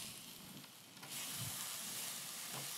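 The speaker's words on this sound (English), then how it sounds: "the next thing we're going to add in is our tomatoes, and that's going to release some juices into this." Tomatoes dropped into a hot skillet over sautéed vegetables sizzle with a bright, steady hiss that swells louder after the first second and keeps crackling close by.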